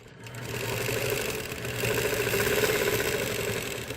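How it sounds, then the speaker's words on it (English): A sewing machine stitches along a quilting ruler, its rapid even needle chatter and motor hum running steadily for a few seconds, close and unaccompanied by speech. "I'm going to stitch over to my other side."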